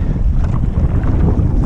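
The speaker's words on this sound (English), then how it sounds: "The wind's coming out of the Hawaii Kai side." Wind blows steadily over open water near a boat on the Hawaii Kai side at low tide, a continuous rumbling buffet against the microphone with a faint wash of water beneath and no talking.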